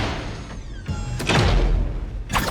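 A door being shot in Valorant on the Summit map, with loud impact thuds and a heavy slam-like bang followed by rumbling crashes over a steady game ambience, and no talking.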